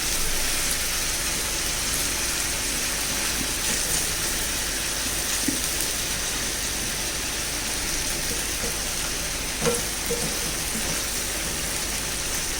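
Prawns sizzle in a pan as they are fried for a roast, giving a steady, even crackle and hiss with occasional small pops throughout.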